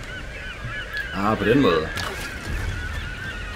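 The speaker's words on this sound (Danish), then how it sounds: "De fugle er træls at høre på." Goose-like birds squawk and honk in the Tomb Raider video game during a level set at a shipwreck, a short burst of harsh calls heard clearly with someone speaking briefly in Danish over the game audio.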